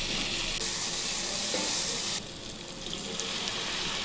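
A spice masala with tomato paste sautés in a pan for lauki kofta, giving a dense, steady sizzle that eases slightly partway through, close and with no voices.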